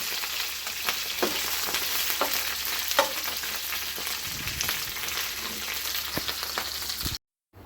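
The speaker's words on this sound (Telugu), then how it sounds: "కరివేపాకు ఎండుమిర్చి జీలకర్ర వేసుకొని వేయించుకొని" Curry leaves, dried red chillies and cumin roasting in a pan, a steady close crackle and sizzle with repeated spatula scrapes and taps, no voices, ending in a brief cut to silence.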